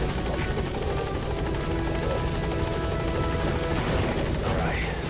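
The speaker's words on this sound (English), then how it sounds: "Get him out by chopper." Helicopter arriving at a landing zone in Metal Gear Solid V, with continuous loud rotor thumping and engine roar that stays steady throughout.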